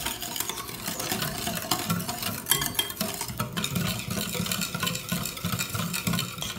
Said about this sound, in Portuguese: estou mexendo agora aqui com a espátula para que não faça tanto barulho